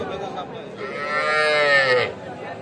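Heifer calves at a village cattle market in Bangladesh, with one long, loud moo rising and falling over a couple of seconds amid crowd murmur.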